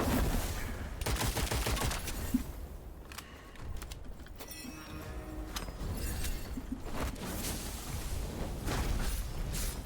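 Gunfire from shooting enemies in the video game Witchfire, rapid bursts of shots and booms that keep coming over nearly ten seconds, dense and continuous with a brief lull midway.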